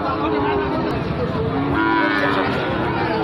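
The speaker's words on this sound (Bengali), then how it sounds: "খুব সুন্দর সুন্দর গরু এগুলো" Cattle moo loudly over a busy crowd murmur, a few drawn-out lows rising above the constant background chatter of a livestock market selling Sahiwal and Gir bull calves.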